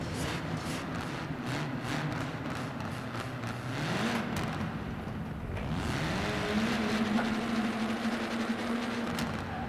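A 2016 Abarth 695 Biposto engine echoes inside a tunnel in Forza Horizon 4. A loud, steady drone climbs in pitch, drops briefly at a gear shift, then rises again and holds a high, buzzy note.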